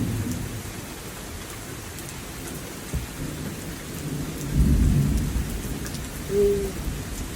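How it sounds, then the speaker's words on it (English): Thunderstorm in Wilmington in March, steady rain hissing throughout with low, rumbling rolls of thunder swelling midway, moderately loud and distant, no talking. "The storm's moving quick, it looks like."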